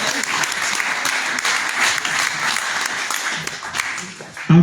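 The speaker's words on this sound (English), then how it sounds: "Give them a round of applause, ladies and gentlemen" A live audience at a museum appreciation event for Memphis musicians breaks into sustained applause, a dense wash of many hands clapping for several seconds before tapering off near the end.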